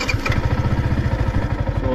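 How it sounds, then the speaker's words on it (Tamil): A Yamaha R15 V4M motorcycle engine running steadily just after starting, a close, even, rapid mechanical pulsing idle with slight clatter and no talk. "அப்புறம் ஒரு வாட்டி நான் இன்ஜின் ஆன் பண்ணி காமிக்கிறேங்க."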